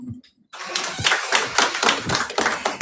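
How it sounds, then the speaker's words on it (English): Audience applause at an elite business series event, a dense burst of clapping starting abruptly after a brief pause and continuing steadily and fairly loud. "Let's give them a round of applause as well."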